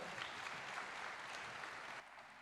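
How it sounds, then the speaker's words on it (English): Sustained applause from an audience, dense and steady, easing slightly toward the end. "can we give him another round of applause?"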